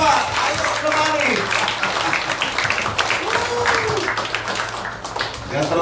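A church congregation applauding during a Sunday service in Labuan, giving a steady wash of clapping for several seconds while a voice talks over it.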